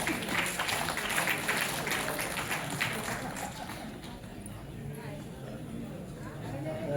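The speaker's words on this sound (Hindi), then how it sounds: "आप इनके सम्मान में जोरदार ताली बजाते रहें" Audience applause at an award ceremony, where a Nepalese vice president honours Indian recipients, rises as brisk clapping, then thins and fades toward a quieter murmur of the crowd with voices in the background.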